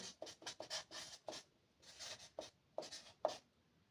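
Chalk or marker writing on a board during a Turkish-language lesson, a close series of short scratchy strokes in quick irregular bursts with brief pauses, heard alone.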